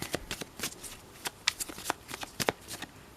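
Tarot cards being shuffled by hand, a quick series of crisp riffling snaps and flutters in irregular bursts, close and clear with no talk over them.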